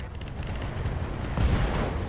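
Mech weapons fire from an Awesome mech targeting a Sunder in the RogueTech video game: a dense, continuous rumbling barrage that swells into a sharper, louder burst near the end.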